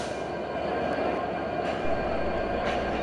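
A locomotive running along the line to couple with a train, a steady, loud rumbling roar of engine and wheels without pause, close by.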